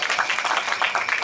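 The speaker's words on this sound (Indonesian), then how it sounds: "Tepuk tangan untuk Gus Legi." A crowd claps in a short burst of applause, dense and steady, heard from within the room.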